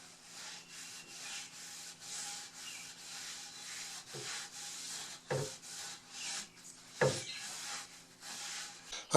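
A rag rubs boiled linseed oil onto a maple workbench vise chop, making soft, steady swishing strokes close up, with a few louder scuffs and knocks along the way.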